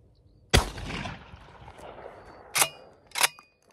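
A suppressed shotgun fires once, a sharp muffled crack followed by a brief decaying rumble. Two smaller clicks or clacks come near the end, close by and with no talking.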